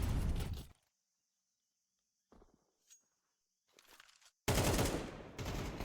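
Gunfire in a Counter-Strike match on the Dust2 map: a loud opening burst, a long near-silent stretch with a few faint shots, then another heavy, sustained volley to the end.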